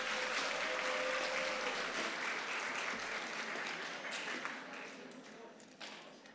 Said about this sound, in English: Can we have a round of applause for our 7th grade Outstanding Scholars?